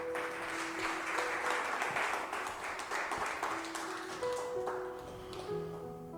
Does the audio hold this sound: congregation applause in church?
yes